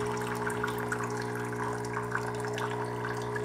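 Hot water pours from a Barista Pro espresso machine, a steady pump hum under a soft continuous splash of water.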